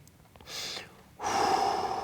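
Two slow, audible breaths during a workout hold, a soft exhale followed after a short pause by a longer, louder breath, close and alone.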